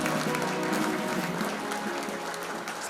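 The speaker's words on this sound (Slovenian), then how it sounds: "Velik aplavz." Steady applause from a crowd, dense clapping that stays even throughout.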